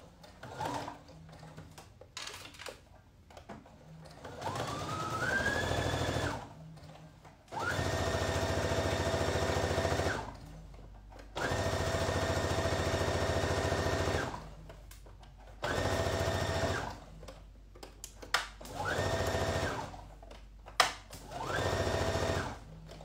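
A sewing machine stitching a first seam with a 1 cm allowance on a garment, running in several loud, steady bursts separated by short pauses, alone without talk.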